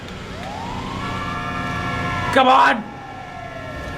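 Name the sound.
ambulance siren in GTA 5 video game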